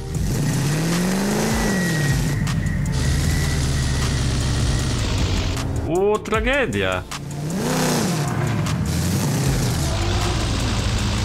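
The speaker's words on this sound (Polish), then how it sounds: "daję gaz do końca, samochód nie chce jechać" A damaged car engine in Forza Horizon 5 revs hard and loud throughout, rising and falling with a sputter partway through, while someone talks over it.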